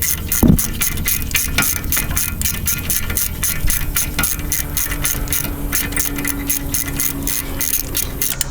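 Hand tools work on the brakes of a 2002 Toyota 4Runner, a steady rapid ratchet clicking close up over continuous background noise, with a sharp clank near the start.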